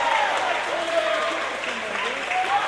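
A wrestling crowd cheers and roars steadily at ringside after a wrestler's dive off the top rope onto three opponents, a dense sustained wall of noise with a commentator's voice running over it.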